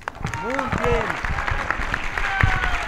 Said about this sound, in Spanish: Muy bien, un fuerte aplauso.